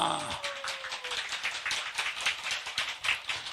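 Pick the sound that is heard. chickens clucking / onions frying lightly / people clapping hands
people clapping hands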